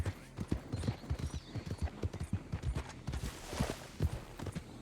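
Horse hooves in Red Dead Redemption 2 clip-clop in a quick, steady rhythm, fairly close, with a brief faint whinny-like tone early on.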